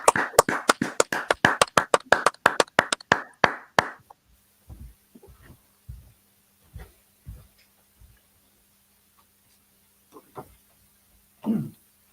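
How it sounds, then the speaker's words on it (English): A small group of people clap briefly in a fast, uneven burst of sharp, close claps that quickly stops, leaving scattered soft knocks, shuffles and a faint cough in a quiet room. "Clap it up."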